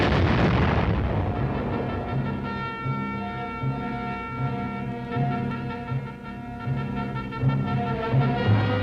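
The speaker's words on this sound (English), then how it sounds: "Mile after mile, the air ripped with explosion." An explosion blasts open crevasses on the Greenland ice cap, opening with a sharp boom that rolls into a long, sustained rumble beneath droning orchestral music.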